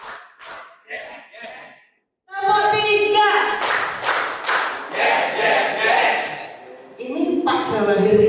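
A group of people, likely a class or workshop audience, claps in short patterned bursts as part of a clap game, loud close rhythmic claps mixed with shouted responses and voices, after a few brief spoken lines at the start.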